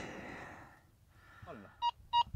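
A Minelab Go Find 11 metal detector sounds two short, sharp beeps in quick succession over a buried rivet, heard after a brief stretch of low background noise and handling.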